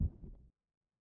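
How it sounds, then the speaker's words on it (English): Low, muffled heartbeat thuds from a Minecraft horror mod, a quick throbbing pair that fades out after about half a second, leaving silence. "That was a heartbeat."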